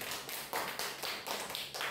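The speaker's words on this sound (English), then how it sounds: "Let's give her an applause to Ivy Menace." A few people clap in slow, uneven bursts to welcome a student giving an oratory speech, the faint claps spaced loosely over a quiet room.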